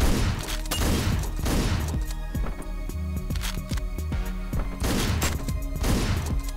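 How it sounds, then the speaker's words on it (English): Hotline Miami gameplay gunfire comes in rapid, loud bursts of overlapping shots with sharp impacts throughout, with game music underneath. "My blind firing was working, too."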